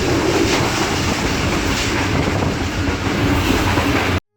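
Shah Hussain Express passenger train rolling out of Lahore, a steady loud rumble of wheels and carriages close by, running continuously and cutting off abruptly at the end.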